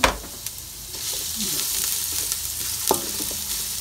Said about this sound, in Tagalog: Tumahin po natin yung luya.